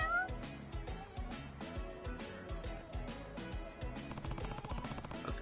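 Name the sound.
cats meowing in the video game Judgment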